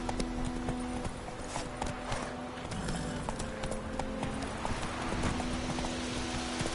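Roach the horse gallops in The Witcher 3, hooves clip-clopping in a steady, continuous rhythm against a busy game soundscape with no talking.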